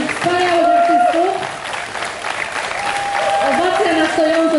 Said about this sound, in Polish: Wielkie, wielkie brawa dla naszych wspaniałych artystów